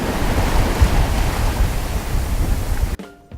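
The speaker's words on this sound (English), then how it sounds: "the wind is back up and we're making it across Chedabucto Bay to Canso." Strong wind and churning waves buffet a boat crossing Chedabucto Bay, a loud, rushing wash of noise that cuts off abruptly near the end.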